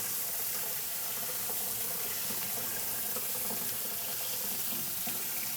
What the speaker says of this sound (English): I'll just rinse all this, get the big stuff off. You might even be able to just use water, do a quick rinse.